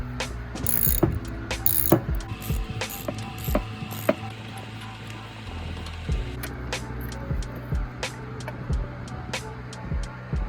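A ratchet wrench removing E8 star bolts from a Toyota Supra engine gives several bursts of quick clicking, close and fairly quiet, with metallic taps between and no talking.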